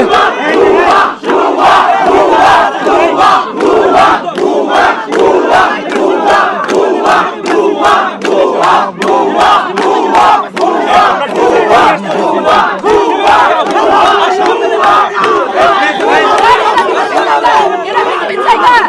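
Protest crowd in Bangladesh chanting slogans loudly and continuously, many voices shouting in rhythmic bursts with dense chatter underneath, close and overwhelming for the whole stretch.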